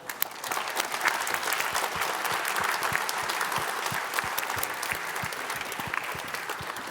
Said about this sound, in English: We'd like to give 2 rounds of applause.